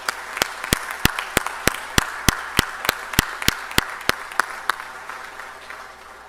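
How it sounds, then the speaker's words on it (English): Applause at a FIBA basketball congress session for the outgoing Central Board members: a room of delegates clapping, with a steady run of sharp, evenly spaced claps standing out over the crowd, loud at first and fading by the end, no talk. "express their appreciation together with mine to all the members of the Central Board that have served over the last 4 years with a round of applause"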